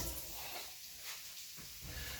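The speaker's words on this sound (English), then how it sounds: "And there's a sizzle going on" Garlic and half a diced medium onion sizzle in a hot wok, a steady close hiss with gentle crackle that holds evenly throughout with no talking.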